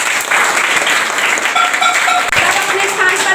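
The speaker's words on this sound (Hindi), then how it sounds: "सब लोग ताली बजाओ।" Children in a classroom clap together during a food chain activity, a loud, close burst of quick, uneven hand claps with some chatter mixed in.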